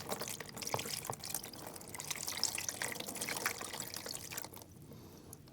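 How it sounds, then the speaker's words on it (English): Water poured from a bucket splashes and trickles over landscape wire connectors coated in dielectric grease, a continuous close splattering pour that thins out near the end. "I'm going to pour water directly into these connections."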